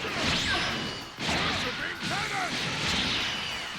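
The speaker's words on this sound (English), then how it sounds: "Manages to have enough E in the tank to even get off a light grenade" Light grenade energy attack in Dragon Ball Xenoverse 2 during a PC tournament match, with rapid whooshing blasts and crashing impacts in quick succession, layered under energetic commentary.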